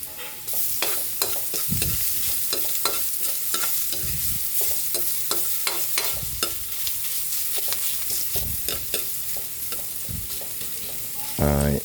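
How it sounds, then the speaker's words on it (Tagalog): Garlic sizzles and fries in a little oil in a pan for chicken tinola, steady crackling broken by repeated metal stirring scrapes and clinks, close and alone without voices. "Lagyan na natin yung bawang."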